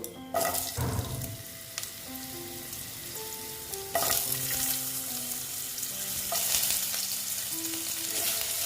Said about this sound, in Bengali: দেখো পাঁচ ফোড়নটা প্রায় হয়ে গেছে এবার আমি দিয়ে দিচ্ছি আলুগুলো